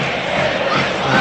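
Stadium crowd noise during an Atletico Madrid versus Leicester City football match as a fight breaks out among fans in the stands, a loud, dense roar of shouting voices that stays steady throughout.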